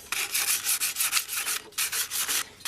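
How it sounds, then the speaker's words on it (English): Sandpaper scrubs loose rust off an old lawnmower part in quick, close back-and-forth strokes, a rhythmic rasping series with a brief pause midway. "I'm going to get some of that loose rust off of here just lightly."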